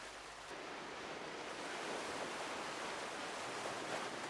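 Surf washing steadily onto the white sand of Seven Mile Beach, Grand Cayman, a continuous broad wash of breaking waves with no voices, swelling slightly after the first half second.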